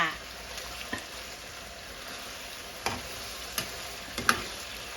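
Pork frying in a home kitchen pan, a faint steady sizzle with a few scattered clicks and light taps of utensils, no voices over it.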